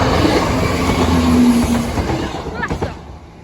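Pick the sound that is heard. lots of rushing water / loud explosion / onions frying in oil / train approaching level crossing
train approaching level crossing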